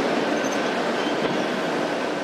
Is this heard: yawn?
no